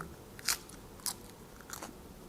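Someone eats squid with seafood dipping sauce close to the mic, three crisp crunchy bites spaced roughly half a second apart over a quiet background, with no talking.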